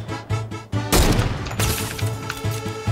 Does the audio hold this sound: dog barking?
no